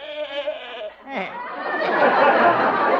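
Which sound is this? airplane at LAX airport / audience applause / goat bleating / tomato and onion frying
goat bleating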